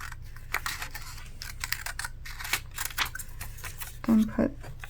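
Scissors cut through material while a Kinbor weekly planner is being set up: a scatter of light crisp snips and clicks, then a couple of firmer cuts near the end, close, with a quiet voice in the background.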